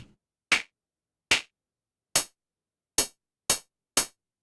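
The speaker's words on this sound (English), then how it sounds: "Now it's starting to sound more like a clap." Six sharp synthesized claps from the Ruismaker Noir drum synth app, each a crisp burst with a short decay, spaced unevenly and heard alone with no talking.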